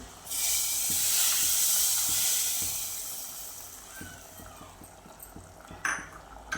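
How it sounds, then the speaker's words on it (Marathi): Kashmiri red chilli dropped into hot oil for a tadka flares into a loud, bright sizzle that slowly fades, followed by light, irregular taps and clicks from the pan. "याच्यात मी लाल मिरची घालते कश्मीरी लाल मिरची घालते मी तो छान असा तडका द्यायचा आहे आपल्याला"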